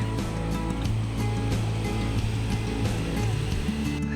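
Ocean waves wash onto an empty Konkan beach in a steady, continuous roar of surf, close and fairly loud, with no voices over the water.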